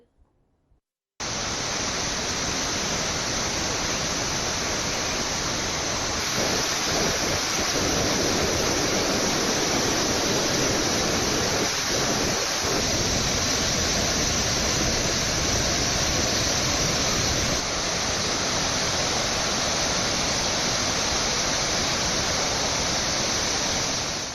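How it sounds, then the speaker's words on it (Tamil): Floodwater roars over Kovai Kutralam waterfall after heavy monsoon rain in the Western Ghats, a dense, loud, continuous rushing wash that fills the whole span with no pause or voices. "கோவை குற்றால அருவியில் காட்டாற்று வெள்ளம் கரை புரள்கிறது"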